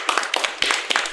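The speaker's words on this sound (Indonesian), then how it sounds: "Gue mau tepuk tangan tapi ini harus tepuk tangan guys." One person claps a few crisp, close claps in an uneven rhythm. The claps come in short bursts separated by brief pauses.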